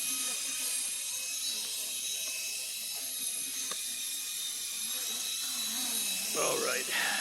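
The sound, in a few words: DIY micro RC helicopter flying with MPU6050 gyro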